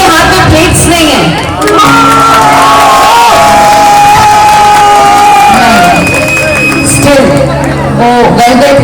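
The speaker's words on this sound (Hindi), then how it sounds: "तो एक बार जोरदार ताली बजाएंगे जिनके हाथ में प्लेट्स नहीं है।" A large audience at a Bhojpuri stage show cheers and whoops loudly and without a break, with shouting voices and amplified sound mixed into the crowd noise.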